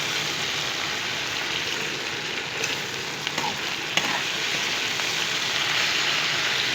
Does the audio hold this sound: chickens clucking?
no